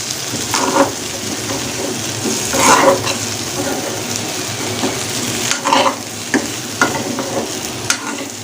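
Potato fry is stirred in a hot pan, with a continuous oily sizzle broken by bursts of scraping and clattering from the spoon mixing the pieces.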